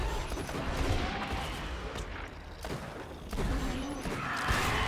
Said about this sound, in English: This Maggie is taking care of these stalkers very quickly. A few shots and they go down.